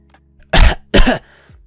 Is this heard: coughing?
yes